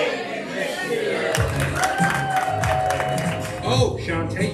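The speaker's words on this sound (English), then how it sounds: "So on the count of 3, we're going to say, hey, we missed you. And then we're going to clap." Audience clapping, cheering and shouting at a live improv comedy show, a dense crowd roar with a ringing whoop, people talking over it throughout.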